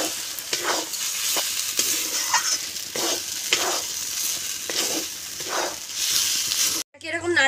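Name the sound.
stirring mashed taro with turmeric, chili powder and salt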